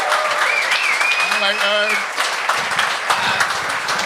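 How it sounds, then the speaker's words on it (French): Applause from a live comedy talent show audience, loud and sustained under a voice speaking over it, with a sustained melodic tone sounding through the middle. "donnez-vous une bonne main d'applaudissement"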